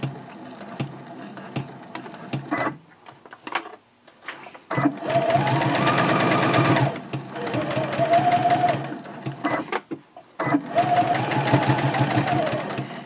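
A sewing machine stitches and backstitches a reversible drawstring gift bag, with loud runs of rapid, even needle chatter broken by short pauses, clicks and quieter stretches.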